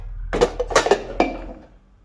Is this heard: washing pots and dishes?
yes